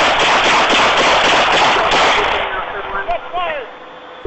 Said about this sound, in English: Shot fired. Shot fired.